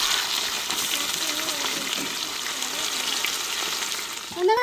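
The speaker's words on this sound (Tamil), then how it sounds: "வெங்காயம் பச்சை மிளகாய் எண்ணெயிலே வதங்கிருச்சு" Onions and green chillies sauté in hot oil for beef biryani, a loud steady sizzle and crackle filling the whole stretch, close up, with a brief stir at the end.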